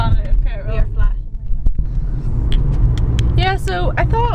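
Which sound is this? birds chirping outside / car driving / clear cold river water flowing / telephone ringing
car driving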